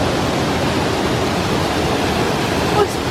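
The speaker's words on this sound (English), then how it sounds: "If I'm not mistaken, that's a waterfall" Waterfall on a hike in the Southern Black Forest, a loud, continuous broadband rush of falling water that stays even throughout, with a brief faint voice near the end.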